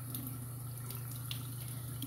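Warm water running steadily from a tap into a sink, a soft, continuous faint stream with a low hum beneath it and occasional small splashes.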